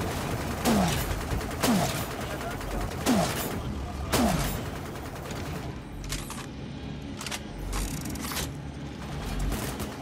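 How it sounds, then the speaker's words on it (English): Bolt pistol shots in the sci-fi shooter DUST 514, four sharp reports at roughly one-second intervals, each followed by a mechanical clack, then several lighter, more distant bangs over a steady background rumble. "Bolt pistol."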